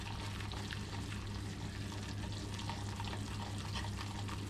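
Balsamic chicken cooking in a hot pan on a hot plate gives a steady, close sizzle and faint bubbling that holds an even level throughout, with no talking.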